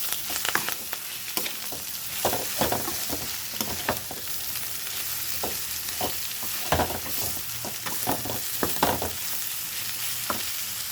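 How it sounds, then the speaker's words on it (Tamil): Ridge gourd peel is stirred and sautéed in a pan, giving a soft, steady sizzle broken by repeated scraping strokes of the spoon, fairly quiet and close, with no talking. "இப்போ வச்சுருக்க நம்ம இந்த பீக்கங்காய் தோலையும் இதிலேயே சேர்த்து ஒரு வதக்கி ஆற விட்டுறலாம்."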